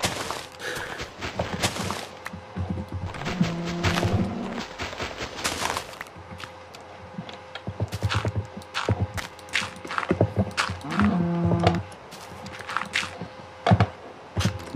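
Two short, low, droning moos from a Minecraft cow, one a few seconds in and another near the end, set among blocky in-game footsteps and clattering effects.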